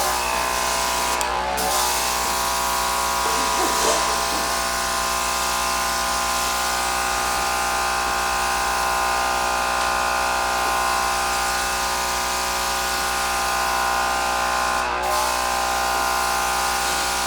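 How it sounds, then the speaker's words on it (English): An airbrush sprays matte black paint onto an OO gauge model railway layout. Its compressor gives a constant close electric buzz throughout, with two short bursts of hissing air. "So see if the airbrush is working."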